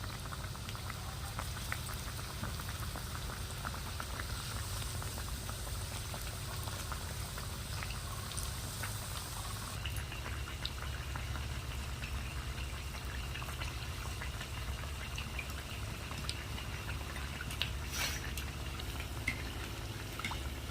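Pakan pitha fry in hot oil, a steady, fine bubbling sizzle that runs evenly and fairly faintly for twenty seconds, with a few soft clicks and no talking.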